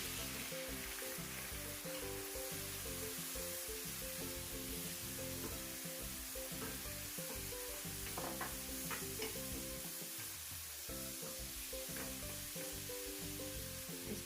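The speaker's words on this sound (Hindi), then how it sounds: "अब मैं इसके अंदर 2 खाने के चम्मच लहसुन अदरक का पेस्ट डाल दूंगी।" Browned onions sizzle steadily in a pan as garlic ginger paste is stirred in, a constant close frying hiss with scraping stir strokes running underneath, no voices.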